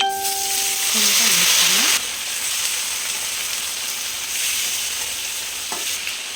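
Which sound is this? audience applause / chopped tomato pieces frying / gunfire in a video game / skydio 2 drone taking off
chopped tomato pieces frying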